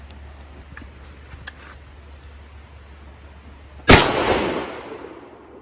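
A single loud shotgun blast from a 3-inch shell cracks sharply and rolls off into a decaying boom, preceded by several seconds of quiet outdoor ambience.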